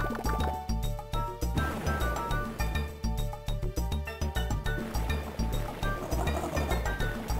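Watery, bubbling game audio from Mario & Luigi: Bowser's Inside Story, with liquid gurgles and clinking drops layered over dense, continuous background music.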